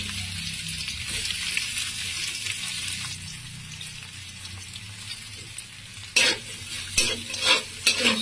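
Chopped onions sizzle and fry in oil in a wok (kadai), a steady close crackling hiss with stirring scrapes and a few louder bursts near the end; no voices.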